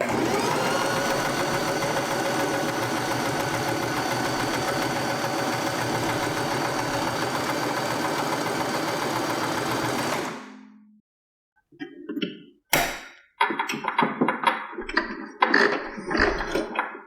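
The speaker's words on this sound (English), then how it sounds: "Put two cotton pieces and one silk on top and then sew sides together." A sewing machine stitches cotton and silk face-mask pieces together with a steady, continuous whirring hum for about ten seconds. It then stops, and quieter fabric handling and small clicks follow.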